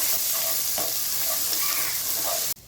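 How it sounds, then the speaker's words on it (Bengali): Steady sizzling of spices and grated ginger frying in hot oil, with occasional soft stirring scrapes, close and continuous before cutting off abruptly. "এরপর দিয়ে দিচ্ছি 1 চামচ গ্রেড করা আদাটা খুব ভালো মতো করে ভেজে নিচ্ছি"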